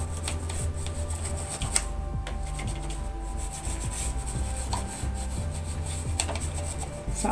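A brush scrubs steadily over an industrial sewing machine during cleaning, a continuous close rasping rub with uneven strokes lasting several seconds, no voices.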